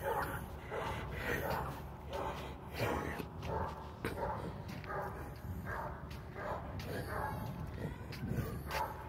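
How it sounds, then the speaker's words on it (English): A dog at a door gives repeated barks and yips with some whimpering, faint and muffled under background noise and indistinct voices. "They got a dog there,"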